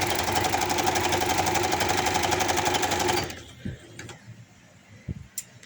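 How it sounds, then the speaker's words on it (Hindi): A loud, close sewing machine runs continuously with a rapid rhythmic clatter while stitching a baby boy's short pants, then stops abruptly, leaving scattered clicks and handling knocks. "मेरी मशीन के शोर को थोड़ा सा आप लोगों को इग्नोर करना पड़ेगा।"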